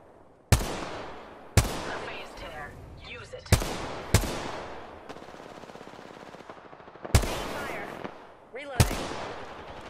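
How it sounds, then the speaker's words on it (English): Heavy bursts of gunfire in the Apex Legends battle royale, about six sharp loud shots or bursts spaced irregularly with sustained rattling between them, with game voice lines heard alongside. "Opening fire."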